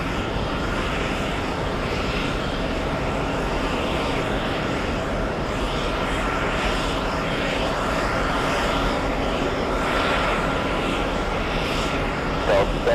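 A jet airliner at JFK Airport rumbles as a steady, loud, broadband roar across the whole stretch, with an air-traffic radio voice talking over it.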